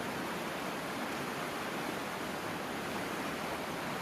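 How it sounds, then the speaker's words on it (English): Fishing Creek flows beneath an old covered burr truss bridge in Pennsylvania, a constant, even broadband rush of moving water heard alone at a steady level. "Fishing Creek."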